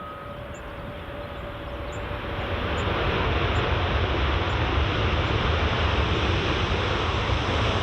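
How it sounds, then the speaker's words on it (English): WestJet Boeing 787-9 arriving from Calgary at Edinburgh Airport, a broad jet roar that swells over the first few seconds and then holds loud and steady, with a faint whine riding on top and no talk. "Aye, the Westie 789 inbound from Calgary."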